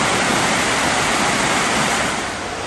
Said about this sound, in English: They even put a waterfall in here.